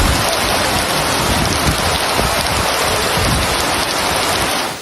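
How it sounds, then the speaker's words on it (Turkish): Sudden heavy downpour in Istanbul's Spice Bazaar, a dense, steady roar of rain hammering surfaces and splashing water, loud and unbroken throughout with no voices. "Aniden bastıran yağmur Mısır çarşısının içini göle çevirdi."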